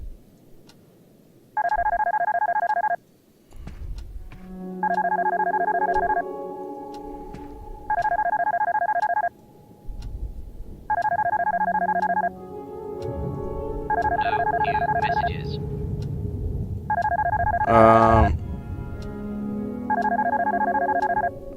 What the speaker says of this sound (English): Oh, cell phone.